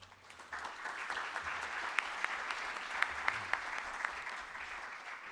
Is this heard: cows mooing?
no